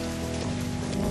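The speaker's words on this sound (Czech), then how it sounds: "když prší." Steady rain pattering on a surface, a dense, even hiss with no voices.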